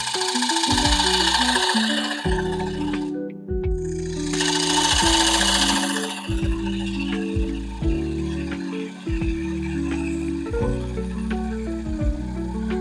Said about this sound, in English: I'm just taking my time here with these cuts with the bowl gouge.